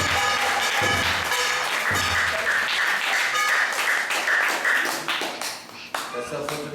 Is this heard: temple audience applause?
yes